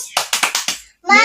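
Children do the rhythmic 'tepuk fokus' clapping chant in a classroom: five sharp, evenly spaced claps, then a burst of young voices.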